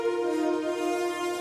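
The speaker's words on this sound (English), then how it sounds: "we have some brass doing some harmonizing notes along with the lead" Brass instruments harmonize with lead strings in a remixed beat, steady sustained tones layered together at an even level for a short stretch, no voices.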